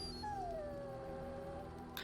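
A war dog in the video game Dragon Age: Origins gives a single drawn-out whine that slides gently downward in pitch, faint and alone over a low background hum.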